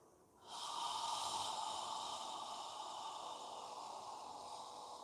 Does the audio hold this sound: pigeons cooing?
no